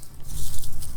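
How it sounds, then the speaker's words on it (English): Close, loud crunching snips as a woody privet plant stem is cut with a hand tool, a short burst of crackling compression over about a second. "cut the plant"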